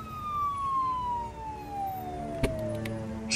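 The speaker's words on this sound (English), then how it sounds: "Can you hear those sirens? They're getting closer." Approaching sirens wail with a long falling tone, fairly faint and distant at first, with a brief clatter near the end.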